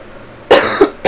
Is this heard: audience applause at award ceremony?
no